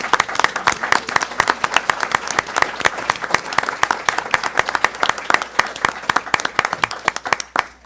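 Lively audience applause at a university lecture, many sharp hand claps packed into a dense, continuous patter that carries on for several seconds before tapering off.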